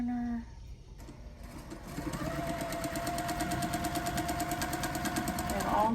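A sewing machine stitches a quilt block corner to corner in a steady, fast, close rhythmic whir, after a brief pause with faint background tones.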